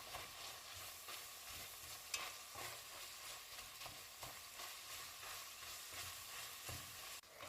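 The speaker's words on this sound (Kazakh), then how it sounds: "Етіміз бен пиязымызды жақсылап тұрып қуырып алдық." Pieces of meat frying with onion and garlic for homemade lagman, a faint, even sizzle with soft scattered crackles and occasional stirring knocks of a utensil against the pan, no talking.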